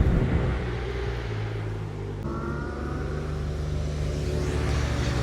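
Loud, steady engine roar of motorbikes passing close by, a continuous rumbling drone that swells slightly toward the end.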